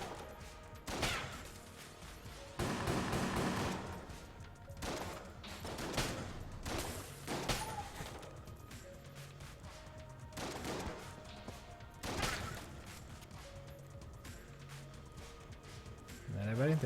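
Shotgun blasts boom in a video game shootout, several loud separate shots spaced a few seconds apart, mixed with crashes and a person talking throughout.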